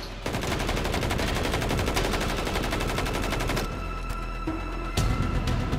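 Rapid automatic gunfire from the Call of Duty video game, a loud continuous burst of dense repeated shots that breaks off briefly and then resumes.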